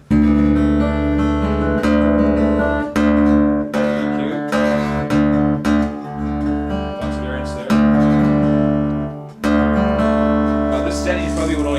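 Strummed acoustic guitar heard through its pickup alone, a dry, direct plugged-in tone, chords ringing steadily with sharp strum attacks and no voices.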